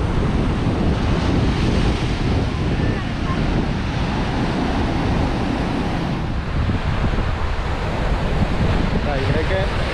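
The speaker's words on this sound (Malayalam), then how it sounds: "ചില സമയത്ത് ചില തിരമാലകൾ ഇങ്ങനെ കയറി വരുന്നുണ്ട് കേട്ടോ" Sea waves surge onto a beach in a continuous loud roar, heavy surf mixed with strong wind buffeting the microphone, with no pause across the whole stretch.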